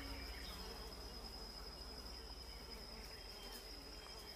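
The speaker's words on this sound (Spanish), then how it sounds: "moscas." Flies buzz faintly and continuously in an outdoor scene from a Spanish-language war film, a thin steady whine over low background noise.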